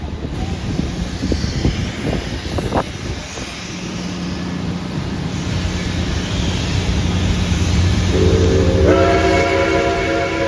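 Steam locomotive 765 pulls away under full steam with heavy rumbling chuffs and rail noise, and near the end a loud whistle blows with a rich harmonic tone.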